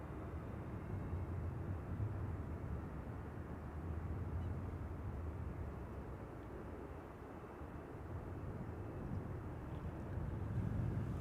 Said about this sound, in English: Overhead traffic, twin jet en route to the northeast. Looks like a Dreamliner